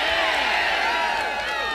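A concert crowd cheering and whooping for a band at a show in Fenton, Michigan, a brief, loud, dense burst of voices and applause.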